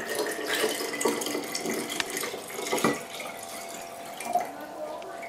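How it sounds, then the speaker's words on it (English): Cold water poured from a big container into a large jar, splashing and trickling with irregular gurgles and drips, fairly quiet and close, with faint voice-like traces present. "So we're going to pick up the big container of cold water and put it in the big jar."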